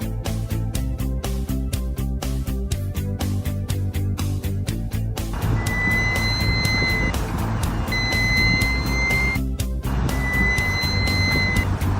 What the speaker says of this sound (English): There is indeed an abnormal sound, which is coming from the rear wheel. The sound is very harsh